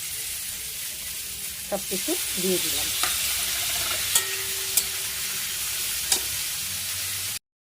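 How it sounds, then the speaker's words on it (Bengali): Cashews and raisins fry with tempering spices in hot mustard oil for a pineapple chutney, giving a steady close sizzle with occasional sharp spoon clicks from stirring, and someone speaks briefly early on. "সর্ষের তেল আমার গরম হয়ে গেছে, এর মধ্যে ফোড়ন দিয়ে দিলাম। নেড়ে চেড়ে তারপর কাজু কিশমিশ ভাজতে দিলাম"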